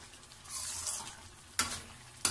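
Mutton liver fries in a pan with a steady sizzle. Sharp scraping bursts come from stirring, close and fairly quiet, with no talk.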